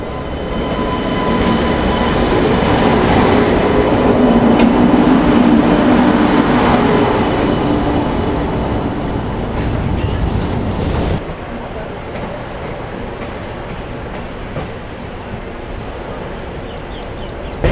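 The Coimbatore Express roars past close by at a crossing while another train waits, a loud rumbling rush and rattling wheels, then the noise drops sharply as it clears, leaving a quieter hum.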